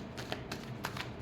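Tarot cards riffle and tap in a brief, quiet shuffle, a few soft flicks and slaps close by with no voices.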